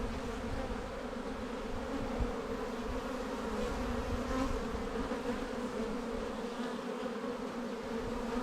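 Honey bees swarm around a new hive, a steady dense buzzing drone that fills the air close by without any talking.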